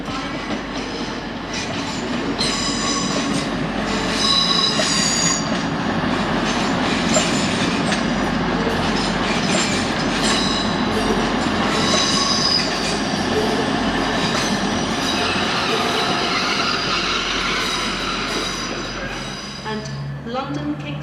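A train rolls through Doncaster station with a loud rumbling roar, rhythmic wheel clatter and occasional squealing, while a station announcement plays over it before the noise fades near the end.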